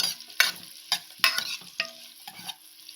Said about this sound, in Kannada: ಈರುಳ್ಳಿ ಮೆಣಸಿನ್ಕಾಯಿ ಹಾಕೊಂಡಾಗಿದೆ ಇವಾಗ ಅದನ್ನ ನಾನು ಚೆನ್ನಾಗಿ ಫ್ರೈ ಮಾಡ್ಕೊತಾ ಇದ್ದೀನಿ